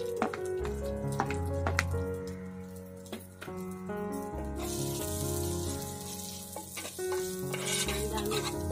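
Onion frying in hot oil in a clay pot: steady close sizzle with repeated scraping and stirring knocks from a spoon, the sizzle brightening and growing louder partway through.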